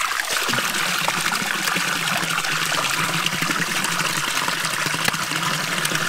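Water trickles steadily from the Karlsbrunnen, a 1972 forest fountain whose basin is slippery with algae, making a constant close splashing and bubbling with no pauses and no voices.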